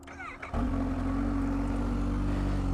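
A 2020 Kawasaki Z H2 with a supercharged inline-four starts from neutral: a brief starter whir, then the engine catches and settles into a loud, steady idle close by.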